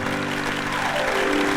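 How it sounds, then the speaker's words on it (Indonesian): An audience applauds for Rizky, a boy dressed as a clown, in a brief steady patter of clapping beneath a low background hum. "tepuk tangan loh buat Rizky loh"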